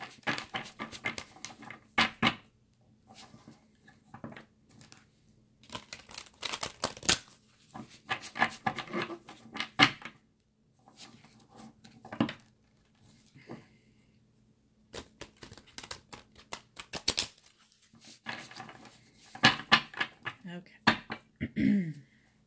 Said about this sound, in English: I'm just going to shuffle these cards a minute.